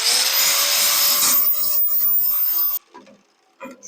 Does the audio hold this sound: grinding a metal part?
yes